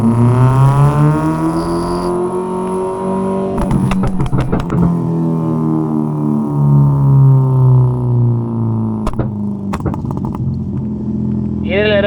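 A Ford Figo fitted with a new muffler accelerates in second gear, its steady, loud engine drone rising and falling close by, broken by a few sharp crackles and pops.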